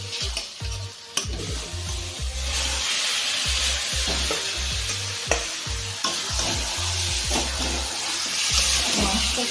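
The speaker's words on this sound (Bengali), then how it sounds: "টমেটো দিয়ে আমরা পেঁয়াজটাকে ভালো করে ভেজে নিলাম।" Onion and tomato paste frying in a pan for a chicken dish, with a steady bright sizzle and repeated scraping strokes of a spoon stirring through it, loud and close with no voices.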